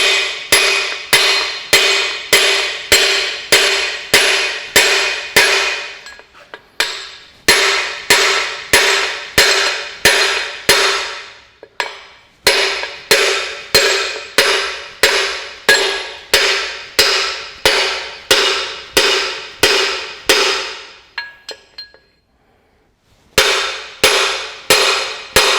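Heavy hammer blows ring out on a disc fitted to a dry-liner puller on a Massey Ferguson 65 tractor engine, struck in fast, loud, evenly spaced runs of metallic clangs with short pauses between bursts.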